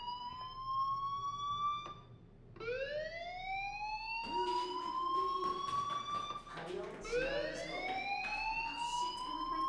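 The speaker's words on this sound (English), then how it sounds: "Hey, do you hear that fire alarm?" Fire alarm in the video game Life Is Strange, a loud repeating electronic siren whose tone sweeps upward again and again, ringing continuously while people talk over it.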